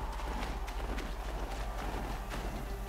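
A ridden mount's hooves in Horizon Zero Dawn beat out a steady, rhythmic clip-clop that stays soft against a dense, continuous game soundscape, with no talking.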